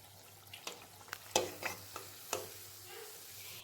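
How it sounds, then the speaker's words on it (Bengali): Malpua frying in a pan of oil gives a faint, quiet sizzle broken by several sharp clicks and taps of a utensil, with no talking. "একইভাবে এখন বাকি মালপোয়াগুলোকেও আমি ভেজে নেব।"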